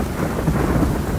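Steady rain falls outdoors in the Greek countryside, a dense, continuous hiss and patter heard close by without any voices.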